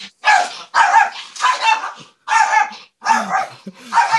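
A dog barks repeatedly at close range, wanting food, giving about six loud barks in quick bursts with brief pauses between them, and no talk over them.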